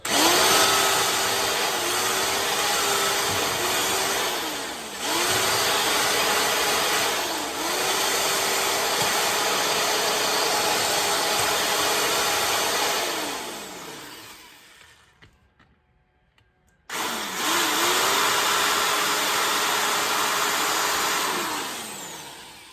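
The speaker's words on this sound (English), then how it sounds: "just trying to drill this out, get this handle off" A steady, loud power drill whines continuously while drilling out an old axe handle, its pitch dipping as it bites, with a brief pause before it starts up again.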